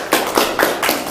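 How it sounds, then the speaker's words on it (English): Four sharp hand claps at an even rhythm, close and fairly loud in a classroom, with no voices. "Just clap."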